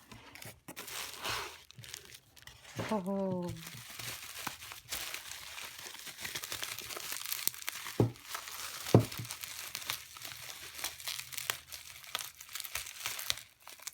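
Packaging crinkles and rustles as a wrapping-paper stamp is unboxed in a quiet studio, with intermittent close crackles, tearing and a couple of sharp snaps, plus a brief spoken exclamation.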